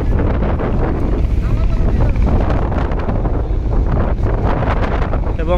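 A passenger launch racing other launches on a river after the Charmonai prayer gathering, with steady engine and water rush under heavy wind buffeting the microphone, loud and continuous; someone speaks over it.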